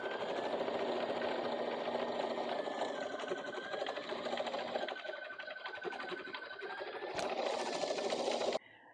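An embroidery sewing machine stitches a heart design in metallic thread with a fast, steady mechanical whir and rattle, close and continuous until it stops abruptly near the end.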